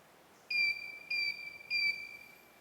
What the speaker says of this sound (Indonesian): Itu adalah bunyi yang menunjukkan mesin sudah siap untuk melakukan pengukuran.